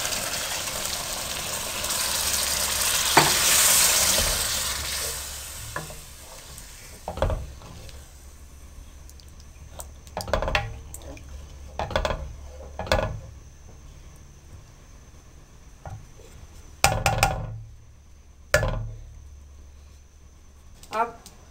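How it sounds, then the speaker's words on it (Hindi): Two glasses of water poured into sizzling fried keema with potato in a hot pan, a loud hiss that fades into lighter bubbling, with several sharp clatters of utensils and someone talking throughout. "अब इसमें 2 गिलास पानी डालूँगी"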